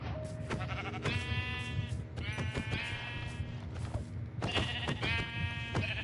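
Repeated bleats from sheep in the Minecraft video game, several wavering nasal calls arriving in bursts over a steady low background hum, fairly close and clear.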